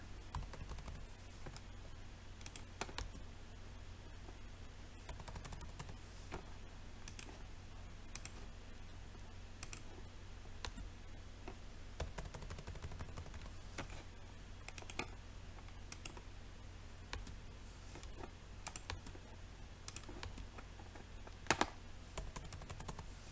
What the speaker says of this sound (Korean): 스페이스를 누르면 이미지를 바꿀 수가 있습니다.